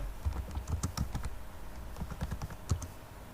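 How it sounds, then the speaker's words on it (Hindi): Fingers type on a computer keyboard while a document is written in Microsoft Word, giving irregular bursts of crisp key clicks up close with short pauses and no speech. "यहाँ पे हम कुछ टाइपिंग कर लेते हैं।"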